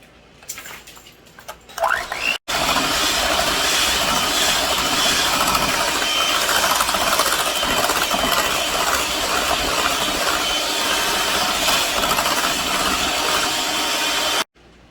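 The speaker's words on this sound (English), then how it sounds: "So you're just going to beat your whipping cream just like you normally would" An electric mixer beats whipping cream for a coconut cream pie, running as a loud, steady, whirring motor drone for most of the stretch after a brief start-up, then cutting off abruptly at the end, with no talk.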